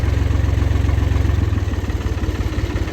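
A tractor engine with a broken clutch idles close by, a steady low throbbing chug with an even pulsing rhythm, loud and alone.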